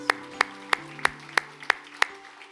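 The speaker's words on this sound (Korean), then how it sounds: "우리 하나님 앞에 다시 한번 감사의 박수 올려드리도록 하겠습니다." A church congregation claps in unison during a worship service, seven sharp, evenly spaced claps in a steady rhythm, close and clear with a faint background hum.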